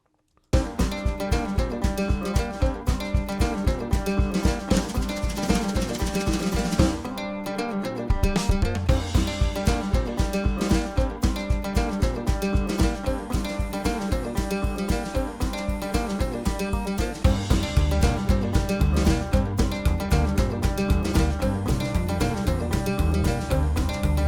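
A full country-style acoustic arrangement plays continuously, with steady strummed guitar rhythm and bright picked mandolin lines layered on top.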